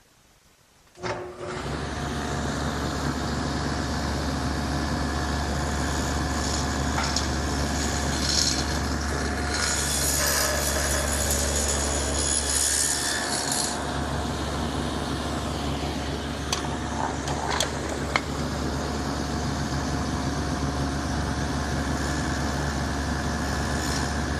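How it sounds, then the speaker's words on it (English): A table saw fitted with a dado head spins up with a sudden start, then drones steadily while cutting grooves in small wood pieces, with brief harsher bursts as the blade bites. "Except this time, I'm going to do it on the table saw with my dado head and the T-square."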